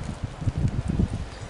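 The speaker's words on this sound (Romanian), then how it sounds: "Da, că bate vântul tare" Strong wind blows outdoors at an amateur football match, buffeting the microphone in continuous low, gusty rumbles with no pause.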